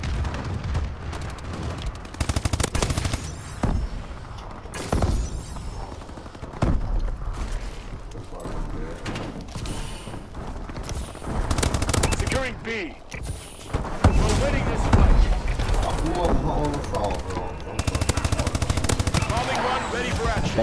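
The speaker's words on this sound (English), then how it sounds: "Friendly bombing run clearing the way" Call of Duty: Advanced Warfare combat, with a bombing run's heavy booms and rumbling blasts mixed with rapid bursts of automatic gunfire, loud and dense throughout, and someone talking at times over the noise.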